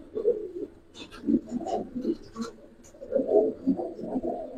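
Silver khaki pigeons cooing close by, repeated low throaty coos in irregular bursts, with faint rustling between calls.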